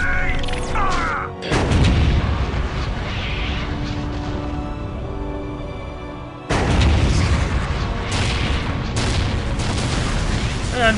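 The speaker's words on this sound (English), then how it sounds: "Main gun ready! Fire!" Tank main cannon firing in Warhammer 40k Dawn of War: Dark Crusade, a loud deep boom at about one and a half seconds and another at six and a half, each rolling into sustained rumbling battle noise with scattered blasts.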